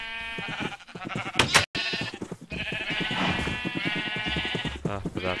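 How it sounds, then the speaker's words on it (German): Sheep in the Minecraft video game bleat repeatedly in long wavering calls, loud and close, with a short sharp noise burst in the middle and no talking. "Boah, du scheiß Schaf, komm hier rüber."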